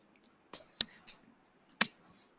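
Two sharp mouse clicks on a computer's Create button, the second a second after the first, with a few faint softer taps between them in a quiet room.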